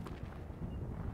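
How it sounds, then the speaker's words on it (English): Low, rumbling wind buffeting a microphone on Strickland Road in Paradise Valley, Montana, steady and blustery throughout with no voices. "Sorry about the wind."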